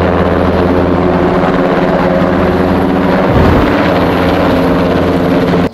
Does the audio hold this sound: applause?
no